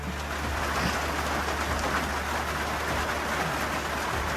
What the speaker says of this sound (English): Best time to be in a hut is when it's raining.